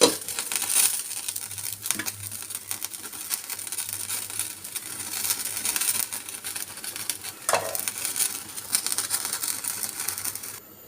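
Shrimp bhuna frying in a pan, a steady crackling sizzle with occasional stirring scrapes running continuously at moderate loudness, no voices over it.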